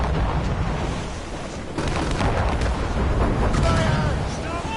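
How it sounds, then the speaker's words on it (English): Cannon fire booms from a sailing ship firing explosive shot during a naval battle in Assassin's Creed Rogue, a loud dense barrage of blasts and rumbling impacts with shouted voices mixed into the chaos. "Use explosive shot to slow her down."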